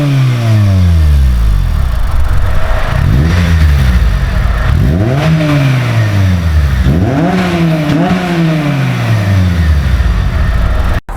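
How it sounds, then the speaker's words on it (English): 2003 Acura RSX Type-S with a racing muffler and K&N intake, revved repeatedly from idle in several sharp climbing and falling bursts, loud and close with no talking. "Let's actually hear a sound clip of the exhaust real quick."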